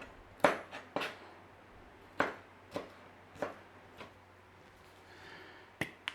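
Knife chopping a jalapeno into small cubes on a cutting board for a Mexican chili lasagna: about ten sharp, separate knocks in an uneven rhythm, close by, with quiet gaps between them and no talking.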